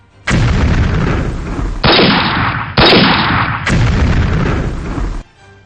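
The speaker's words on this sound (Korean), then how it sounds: "여봐라, 요새에 전방위적인 포격을 퍼붓도록 해라." Cannon fire pounds a wooden-palisade fort in a heavy, continuous bombardment. Dense, roaring blasts overlap into a loud barrage that runs for several seconds with no voices.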